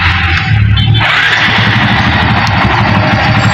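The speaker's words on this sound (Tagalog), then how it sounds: "Tapos start natin yung motor." A Barako 175 motorcycle engine turns over and settles into a steady, rumbling idle, close by and fairly loud throughout.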